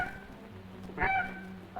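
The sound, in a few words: imitated snow goose gander call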